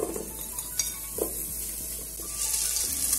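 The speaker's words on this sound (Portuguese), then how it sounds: "Deixo o bacon fritar um pouquinho" Bacon sizzles as it fries in pork lard, a steady close frying hiss with a few brief clinks and stirring scrapes, no one talking over it.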